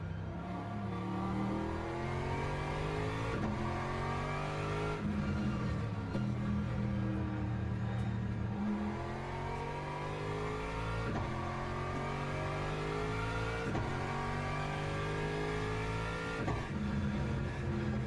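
A GT3 race car engine in the endurance racing game Le Mans Ultimate revs steadily and loudly throughout, its pitch climbing through repeated gear shifts in a regular rising-and-dropping pattern, with no talk over it.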